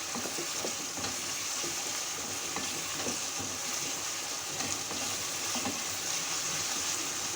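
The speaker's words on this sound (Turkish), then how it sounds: "Salçamızı da ilave ettik. Hep birlikte güzelce kavruluyor hepsi." Tomato paste and peppers sauté in a pot for an okra and meat stew, giving a faint, continuous sizzle with light scraping and stirring clicks and no talk.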